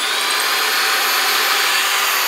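A power drill boring pilot holes for screws into a ceiling support for a clawfoot tub shower curtain ring, a steady, loud, continuous whine running unbroken throughout with no talk.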